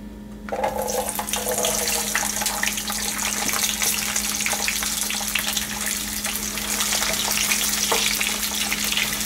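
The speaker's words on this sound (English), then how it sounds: "I'm going to saute the garlic till they turn light golden" Garlic sizzles in hot oil in a pan for a Schezwan sauce, a loud continuous crackling fry that starts abruptly and holds steady throughout, with faint stirring.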